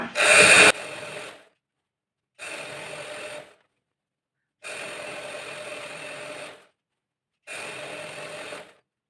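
A sewing machine stitching a chudithar pant runs in four separate bursts with silent pauses between them, the first short and loudest, then three longer even runs of close mechanical whirring. No voices are heard.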